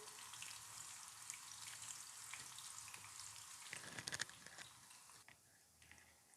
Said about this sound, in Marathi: आता बघा आपण हे अगदी बारीक गॅसवरती तळून घेतो आहे